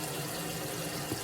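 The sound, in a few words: water running from a tap while rinsing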